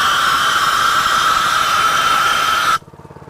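A petrol-engined grit blasting machine runs with a loud, steady hissing roar of air and abrasive, holding constant for nearly three seconds before cutting off abruptly into near silence.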